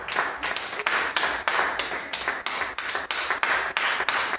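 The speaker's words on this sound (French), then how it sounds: "Est-ce que tu peux acclamer Jésus pour ça?" Church congregation at a Friday service clapping together in a steady rhythmic beat, a dozen or so sharp, even claps at a brisk pace, moderately near with no talk over them.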